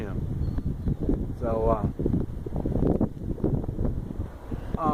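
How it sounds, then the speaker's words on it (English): Wind gusting outdoors in Guatemala, buffeting the microphone with a steady low rush while someone talks over it throughout. "I'm going to try to get out of the wind."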